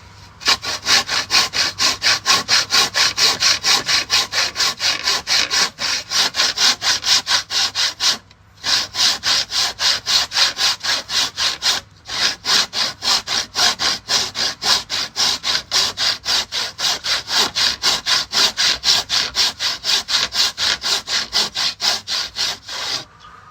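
Wood being cut with a hand saw, a rapid rhythmic rasp of push and pull strokes repeating steadily and close up, broken by two short pauses before the strokes resume.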